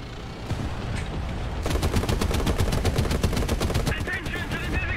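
Rapid bursts of tank gunfire in War Thunder rattle out in a fast, steady string of loud cracks, with a voice speaking briefly nearby.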